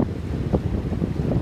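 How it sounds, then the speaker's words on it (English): Strong southeast wind of about 20 knots roars and buffets against the microphone on Horse Creek in Eau Gallie, Florida, a steady low rumble with gusty surges and no voices. "there was a 20 knot sustained wind. I mean, just howling out of the southeast"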